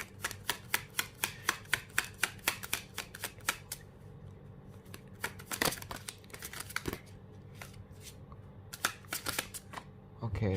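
Tarot cards are shuffled in quick bursts of crisp riffling and snapping, a rapid irregular series of close clicks with brief pauses, while a voice speaks softly underneath.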